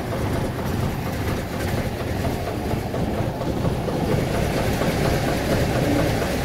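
An old Cummins diesel in a 1989 Peterbilt 379 runs just after a cold start, a steady low rumbling idle at moderate level with no talking.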